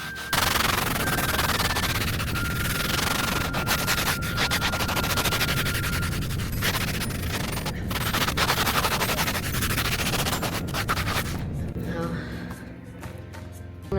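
Vigorous scrubbing with a Scrub Daddy sponge across a grimy surface, a dense continuous rasping scrape that runs loud and steady for most of the stretch before easing off near the end.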